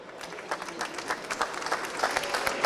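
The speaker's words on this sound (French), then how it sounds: "le lauréat en 2019 dans la catégorie maison individuelle est l'entreprise Pierrose en Savoie, qu'on peut applaudir." Audience applause at an artisans' trophy ceremony for a 2019 award winner in the individual-house category, a steady patter of many hands clapping at moderate distance throughout.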